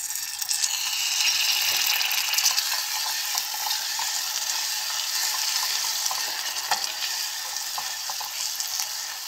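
Caramelized sugar in a pot sizzles loudly and steadily as peanuts and a spoonful of butter are added, with constant frying hiss and scraping, clicking stirring strokes throughout and no speech.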